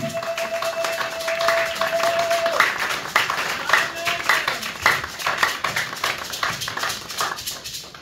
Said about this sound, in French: Nous acclamons très très très très fort le Seigneur Jésus